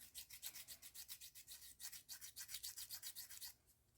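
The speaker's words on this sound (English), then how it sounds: "But we'll just go around, sand it." Rapid back-and-forth rasping as an air dry clay piece's edge is sanded, a steady run of about thirty quick strokes that is close and fairly loud, stopping just before the end.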